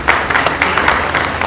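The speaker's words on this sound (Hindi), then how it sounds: "जोरदार तालियां" A crowd at a birthday celebration event claps loudly and densely, a continuous burst of applause from start to finish.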